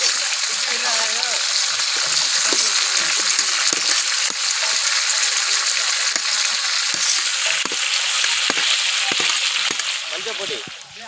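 Three kilos of onions fry in a large pot during outdoor village cooking, giving a loud, continuous sizzle broken by frequent scraping stirs.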